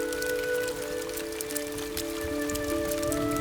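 Heavy monsoon rain falls on Christmas Island, a dense, steady patter of drops hitting leaves and ground, with constant hiss throughout and no voices.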